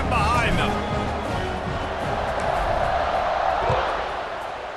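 Stadium crowd noise from EA Sports College Football 26, a Ducks vs Vols dynasty game, swelling as the teams set up for kickoff: a dense, steady roar of cheering and crowd babble that fills the whole stretch and eases off slightly near the end.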